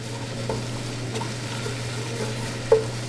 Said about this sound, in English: I'm going to throw the flour in and stir that around and start our roux